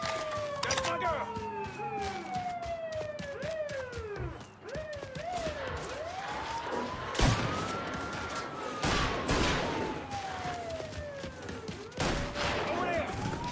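Mafia 3 video game shootout, with bursts of gunfire cracking over wailing police sirens and shouting voices, and heavy sharp shots stacked close together throughout.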